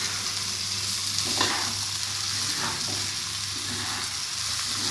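Okra with spices fries in a pan over low heat, a soft steady sizzle broken by a few scraping stirs of a spoon, close and fairly quiet with no talk.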